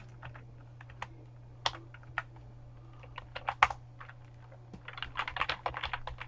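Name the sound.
typing JavaScript code on a computer keyboard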